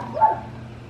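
A dog barks once in the distance, a short muffled woof rising briefly above low background hum, with no talk over it.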